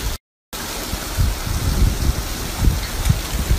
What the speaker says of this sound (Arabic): المطر احسها كبيرة